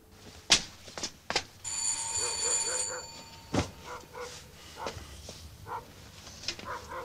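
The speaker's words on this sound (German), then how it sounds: "Klingel" A doorbell rings once in an indoor setting, a bright sustained tone amid scattered knocks, footsteps and a faint dog bark, all fairly quiet.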